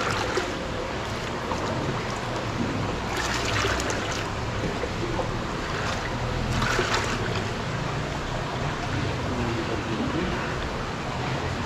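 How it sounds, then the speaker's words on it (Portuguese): Water drains steadily from a home aquarium during a water change, a continuous rushing trickle that stays loud and even throughout, with brief splashy surges. "Tirar mais água agora, Thiago."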